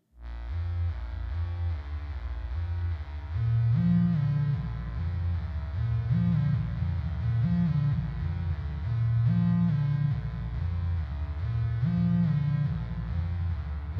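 A Make Noise 0-Coast synthesizer plays a sustained, buzzy, distorted tone with a gated bass pattern that swells and repeats in a steady rhythm, loud and continuous with no talking.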